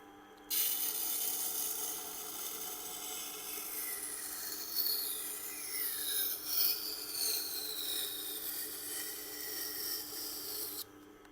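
Knife blade drawn across a black sharpening stone, a thin continuous scraping hiss with rising and falling metallic squeal, close and fairly quiet, starting and stopping abruptly.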